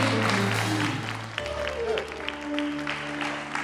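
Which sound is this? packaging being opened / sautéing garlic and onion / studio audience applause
studio audience applause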